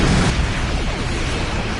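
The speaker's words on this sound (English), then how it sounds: "Torpedoes." A loud, rumbling torpedo explosion in a naval video game booms and washes out into a dense roar that sustains throughout.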